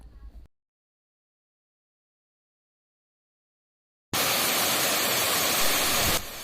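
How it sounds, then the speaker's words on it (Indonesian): The Penimbunan waterfall on the Torean hiking trail roars loudly and steadily, a dense rushing wash that bursts in abruptly after several seconds of silence. "Akhirnya kami tiba di air terjun Penimbunan yang paling terkenal itu."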